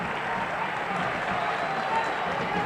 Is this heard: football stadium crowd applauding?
yes